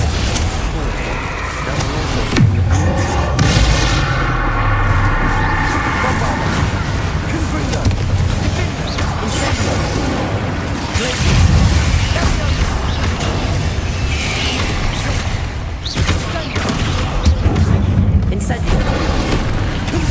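A Confringo spell blasts a barricade in the Hogwarts Legacy video game: repeated heavy booms and rumbling explosions over a continuous loud, dense game soundscape, with voices partly audible beneath.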